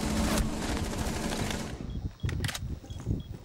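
Gunfire in the tactical shooter Rainbow Six, a heavy sustained burst of rapid shots up close that cuts off into a few scattered clicks and thuds.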